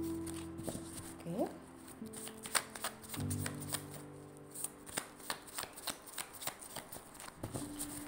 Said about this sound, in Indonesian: Bunda akan shuffle kartunya dulu.